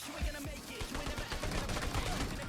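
Rapid gunfire crackles in a PUBG Mobile team deathmatch, dense bursts of quick shots in close succession, moderately loud and continuous, with no talk over it.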